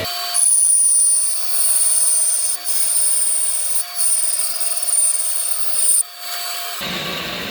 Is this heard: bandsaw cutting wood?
yes